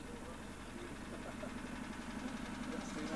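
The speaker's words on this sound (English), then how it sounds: "powered by a 5 horsepower Briggs & Stratton petrol engine" The 1997 miniature locomotive Hymec D7031, powered by a 5 horsepower Briggs & Stratton petrol engine, runs with a steady low chugging drone at the grounds of the Metropolitan Police Sports Centre, continuous and moderately distant.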